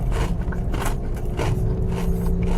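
Close, steady crunching as someone bites into and chews a crisp okoy shrimp fritter during a Malabon food crawl, with dense scraping crackles running throughout and no talking.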